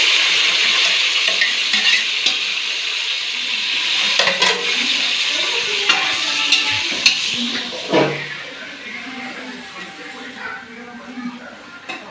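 Onions, green chilies and tomatoes frying in a pan for chicken biryani give a steady broad sizzle with stirring scrapes and a few sharp clinks, and a voice speaks faintly at times.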